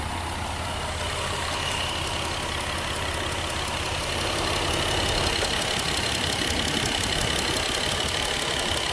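A car engine with a coolant leak idles steadily while warming up, a continuous even rumble with slight knocking texture and no voices, growing a little louder partway through.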